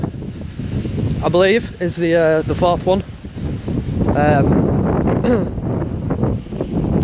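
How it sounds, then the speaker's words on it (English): Gusty wind buffets the microphone outdoors as someone talks, a rumbling low roar under and between his speech. "sorry about the wind, guys. It's very windy now."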